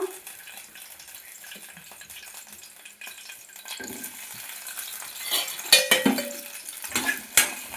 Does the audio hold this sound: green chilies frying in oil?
yes